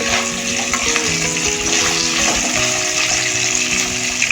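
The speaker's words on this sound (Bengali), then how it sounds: "সবজিটা অল্প করে ভেজে নিয়েছি, মানে গাজর আর বিনসটা।" Carrots and beans frying in a pan for khichuri, a loud, steady, close sizzle with crackling oil throughout and no voices.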